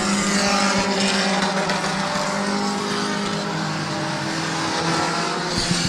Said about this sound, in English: And car number 6 out there is Kyle Lawson.